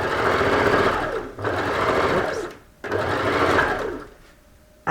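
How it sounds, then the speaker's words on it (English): Sewing machine stitching a side seam straight down on a garment with in-seam pockets, a steady loud mechanical whirr in two long runs separated by brief pauses, then stopping. "we're just going to sew straight down"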